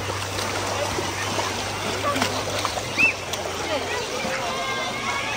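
Floodwater runs down a street in El Salvador, a steady rushing flow with scattered splashes and one brief louder splash, while people talk over it.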